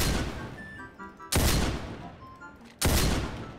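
Guns fire in a Roblox game, three heavy booming shots spaced about a second and a half apart, each with a long decaying tail, loud and alone.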